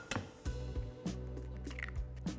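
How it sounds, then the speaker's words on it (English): Two eggs drop into a bowl of radish pancake batter, giving soft wet squishes and plops in a quick irregular series, close and clear without talk. "then we'll add 2 eggs"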